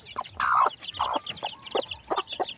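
Shamo chickens cluck in a busy run of short, repeated calls close by, with a steady high hiss running underneath.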